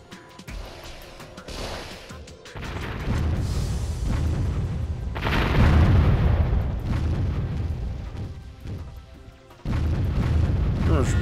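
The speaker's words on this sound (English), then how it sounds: "Target for the artillery." Artillery fire and explosions from the Warzone 2100 strategy game come as repeated deep booms and rumbling blasts, loud and overlapping, with sustained low rumble between impacts and surges of heavier bursts.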